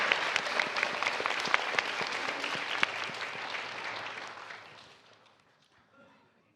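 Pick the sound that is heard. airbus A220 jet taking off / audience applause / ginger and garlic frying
audience applause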